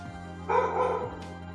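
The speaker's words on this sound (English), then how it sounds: "Why is my dog barking?" A dog barks in the background during video game play, a single muffled bark burst over a steady droning game music bed.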